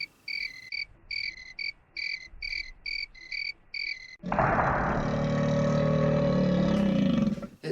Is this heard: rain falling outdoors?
no